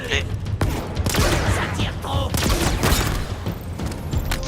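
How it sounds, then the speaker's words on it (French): Shotgun blasts and battle noise in the Halo Infinite video game, loud repeated booming shots over a busy mix of explosions and effects, with voices mixed in. "Fusil à pompe."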